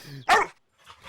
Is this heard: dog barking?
yes